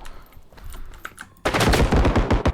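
Gunfire in the shooter game Bodycam, starting with scattered sharp shots and then breaking into a loud, dense burst of rapid automatic fire that fills the second half, close and with no talking.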